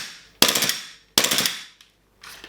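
A WE Glock 18C gas blowback airsoft pistol, fired empty with no BBs in cold weather, rips off two short full-auto bursts of rapid close clacking shots, followed by a faint click and a softer hiss-like burst.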